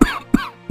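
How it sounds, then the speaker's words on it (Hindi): Three sharp, forceful coughs from a man during a meal in a Hindi cartoon, in quick succession, close and loud, each with a short raspy tail. "बड़ी जोर की खांसी होती है"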